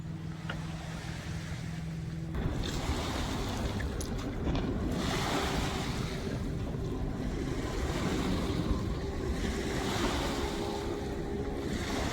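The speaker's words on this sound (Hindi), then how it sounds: "शिप गुजरने की वजह से ये लहरें जो शिप की वजह से" Steady wash of river waves stirred up by a passing ship's wake, broadband and continuous with wind buffeting the microphone, heard close and alone on a waterfront trail.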